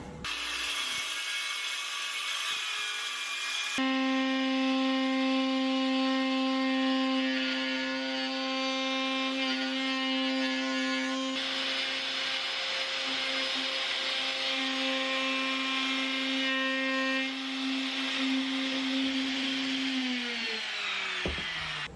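A power saw cuts wood for a workshop ladder, starting with a sharp whine that settles into a steady, loud tonal drone for most of the run and winds down at the end, with no talking.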